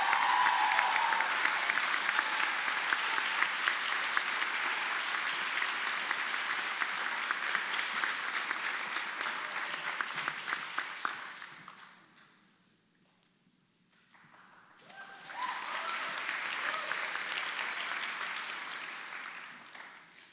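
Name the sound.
audience applause at awards night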